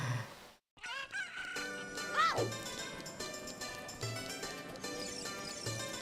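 A cucco crows in Zelda: Ocarina of Time over the game's background music, a rising and falling crow in the first half with a low pulsing beat underneath.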